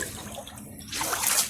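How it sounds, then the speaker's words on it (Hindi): Water splashing and trickling as a cooking pot is rinsed, a soft wash of running water that swells louder in the second half, with no talk over it. "बर्तन को पानी में धुल लेते हैं।"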